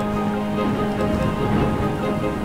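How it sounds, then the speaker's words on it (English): Steady rain falls during a rain season in the plant-growing video game Reach for the Sun, a dense, even hiss with a low hum beneath it and no voices. "Oh, good rain season."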